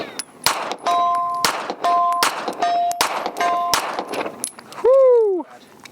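Pistol shots from a 9mm handgun firing 115-grain ammunition ring off steel targets 75 yards away, several sharp bangs each followed by a bright metallic clang, spaced about a second apart, ending in a loud ringing ping.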